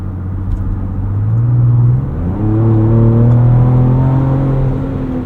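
A 2024 Ford Ranger Raptor with a Ford Performance tune (+50hp) pulls under mild acceleration, its engine drone rising steadily through a smooth gear change and climbing again, heard from inside the cab.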